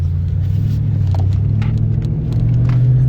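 Heard from inside, a car drives along with a steady low engine and road rumble, a constant loud drone that swells slightly near the end.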